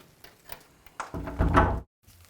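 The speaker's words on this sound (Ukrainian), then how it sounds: "це перші двері у будь-яке бомбосховище цивільного захисту" A heavy steel blast door at a civil defence bomb shelter is swung and shut, a few faint knocks leading to a loud rumbling, scraping movement that ends abruptly in silence, then a faint clank.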